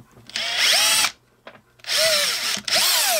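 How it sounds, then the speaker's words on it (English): A power drill whines loudly in two long bursts, pitch rising and falling as a 3/32 center hole is drilled into a metal bullet in a loaded cap-and-ball revolver cylinder, with a short pause between. "the first thing I'm going to do is I'm going to drill a"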